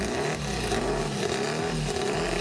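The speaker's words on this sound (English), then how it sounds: "great wheels up action there from the Volkswagen Track Racing Championship with Stuart Hodgson getting those wheels" A Volkswagen drag race car launches hard down the track at a VW drag racing meet, its engine roaring loud and continuous with rising harmonic revs, close and unbroken.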